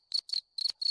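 Cricket chirping sound effect played from a soundboard: four clear, close chirps in a quick uneven rhythm, each a short high trill over silence.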